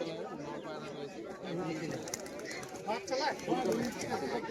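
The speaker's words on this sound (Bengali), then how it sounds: "এই যে একটা সবুজ পায়রা খেলছে" Pigeons coo and flutter among cages at a busy weekly bird market in Beldanga, Murshidabad, their calls mostly under close conversation and crowd chatter.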